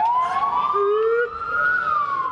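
An emergency vehicle siren wails steadily and loudly during a police anti-terror exercise at Limassol Marina, with ambulances arriving at the scene; the rising and falling tone carries alone without voices.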